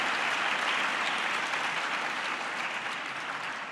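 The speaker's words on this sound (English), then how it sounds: "A big round of applause to our moderator, Dr. A.K. Merchant, and to all our panelists" Audience at a World Religions Summit technical session claps for the moderator and panelists, a dense steady round of applause that fades slightly toward the end.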